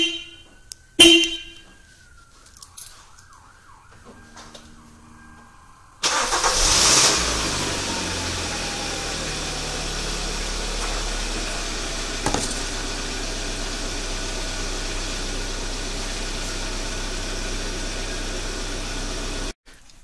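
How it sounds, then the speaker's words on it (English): A 2011-2016 Kia Sportage is remote started, with a few chirps and clicks before the engine cranks and catches, then settles into a steady close idle with no talk. "We're going to activate the remote starter with the parking lights connected."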